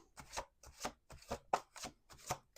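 Quick riffle shuffles of a tarot card deck, about six bursts in a steady rhythm, close and crisp with short pauses between.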